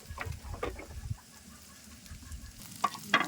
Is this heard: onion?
yes